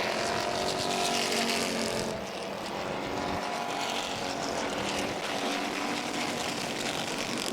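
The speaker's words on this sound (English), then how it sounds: "Busitsky coming up to go around Callaway." Super Streets race cars at Langley Speedway roar past in a continuous, loud engine drone, with a brief dip in intensity midway before the sound swells again.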